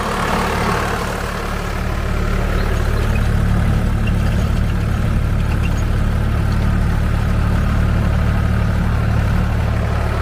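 Sonalika tractor engine pulling a rotavator keeps up a steady low diesel rumble with a constant churning drone, close and continuous, no voices.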